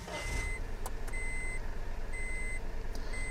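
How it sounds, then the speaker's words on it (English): Seatbelt warning chime from a 2013 Honda N Box Custom Turbo SS: a steady, repeating electronic beep in regular on-off pulses, clear and close over a low, continuous idling engine rumble inside the cabin. "The beeping is because I haven't got my seatbelt on."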